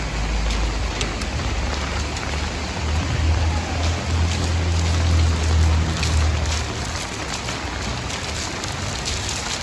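Heavy rain pours steadily over Dadyal town in Azad Kashmir, a dense, continuous hiss of drops drumming on surfaces close by, with a low rumble swelling in the middle and no voices.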